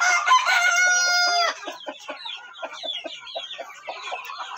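Rooster and hens in a coop holding one cock and four hens: a loud crow opens, then repeated close, rhythmic clucking continues on its own.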